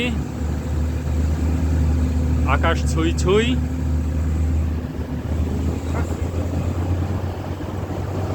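A chander gari jeep grinds up the road toward Keokradong mountain, its engine a steady low drone mixed with wind rush, while a voice speaks briefly over it.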